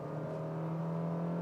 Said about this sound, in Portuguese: Vamos acelerar